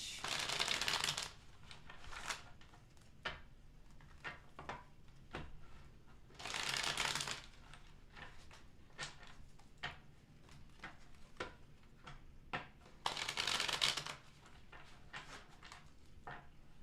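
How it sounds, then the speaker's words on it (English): Tarot cards being shuffled by hand, with three loud bursts of riffling separated by quieter taps and soft handling sounds, close up and with no talking. "Last shuffle."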